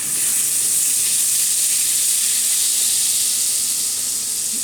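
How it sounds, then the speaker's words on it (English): Butter sizzles loudly and steadily in a hot pan, a dense, even frying hiss that fills the whole stretch with no talking over it. "we're going to put some butter in the pan"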